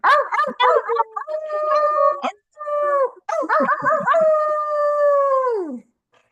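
A group of people howl together like a wolf pack, layered rising and falling voices imitating wolves in two long, loud waves separated by a brief pause, with the final howl sustained before trailing off.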